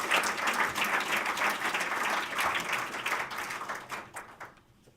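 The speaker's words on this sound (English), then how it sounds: "A big round of applause again." An audience at an awards ceremony claps steadily for several seconds, a dense even patter that gradually thins and fades out near the end.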